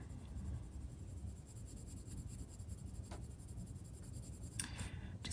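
A colored pencil rubs steadily across paper as chair legs in a drawing are darkened, a faint, continuous scratchy shading sound with small strokes and no talking.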